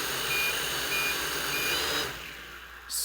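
An Aeroblade RT3500 controller in 100% throttle mode gives out short, evenly spaced high beeps, three in a row, over a steady loud whir of spinning propellers, with no voices.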